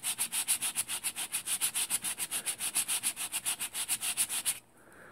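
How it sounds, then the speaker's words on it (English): Rhythmic back-and-forth sanding with a block, about two dozen quick even strokes, close and steady, stopping abruptly near the end. "I think it's just called a sanding block."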